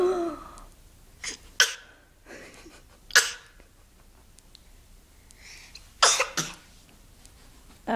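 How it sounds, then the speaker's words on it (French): Several sharp coughs ring out in separate bursts, close by, with quiet breathing in between. "Tu tousses."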